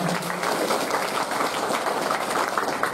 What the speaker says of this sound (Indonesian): Tepuk tangan dulu nih untuk jawabannya.